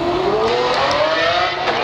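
A Lamborghini Aventador SV engine roars loud and close, its pitch climbing steadily in one continuous acceleration over about two seconds.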